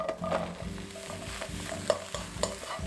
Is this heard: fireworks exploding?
no